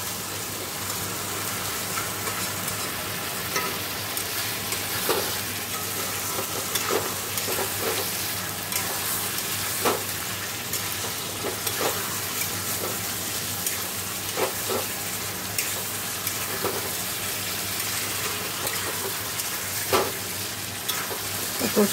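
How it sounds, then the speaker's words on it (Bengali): Fish pieces frying with spice masala in a pan for a Bengali fish curry, a loud continuous sizzle with regular stirring scrapes throughout, no one talking. "মাছগুলো দেখো দিয়ে দিয়েছি, আর ভালো করে মাছের সাথে মশলাটা কষে নেবো"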